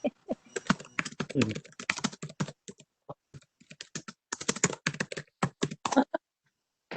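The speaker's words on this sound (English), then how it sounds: "can hear you typing." Rapid typing on a computer keyboard clatters close by in quick uneven bursts of keystrokes with short pauses between runs, heard alone with no talk.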